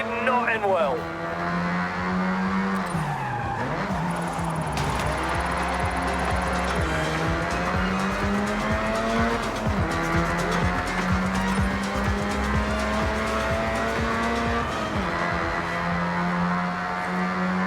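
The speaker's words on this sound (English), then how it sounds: "Dab a brake, a smidge of e-brake to tighten the angle, rear-wheel drive kicking in to control that lateral movement." A rear-wheel-drive Mazda drifts in the racing game Forza Horizon 6. The engine whines steadily and rises and falls in pitch, with sustained tire squeal through the slides.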